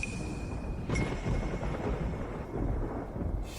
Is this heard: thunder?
yes